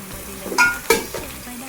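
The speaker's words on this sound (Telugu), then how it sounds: "నెక్స్ట్ ఆనియన్ వేసి కలుపుకోవాలి" Onions and chillies frying in a pan for Andhra-style fish curry, a soft sizzle broken by two quick scraping stirs of a spoon, close and fairly loud.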